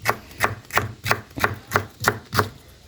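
A knife chops onions into brunoise on a cutting board, eight steady, evenly spaced knocks at a moderate pace, close and clear with no talking.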